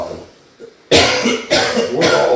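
Two people cough in a bar while tasting Old Forester Green Label rye whiskey: a faint throat sound first, then three loud, harsh cough bursts in quick succession, close to the microphone.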